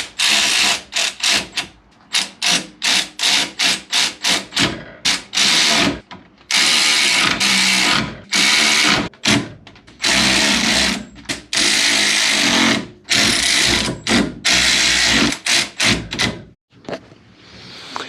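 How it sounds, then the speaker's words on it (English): Electric ratchet running bolts snug on a GTO crossmember during suspension work, a loud close whirring in many short bursts of a second or so, separated by brief pauses and a few longer runs. "now I'm going to use the electric ratchet just to get them close"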